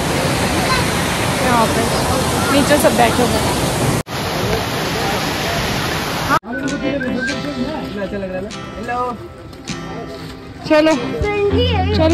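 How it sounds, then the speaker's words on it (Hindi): A small waterfall at Jogni Falls in Manali gives a loud continuous rushing roar for about six seconds, then gives way to quieter outdoor sound with clicks and faint voices. "पीछे से आपको दिख रहा होगा छोटा वाटरफॉल है"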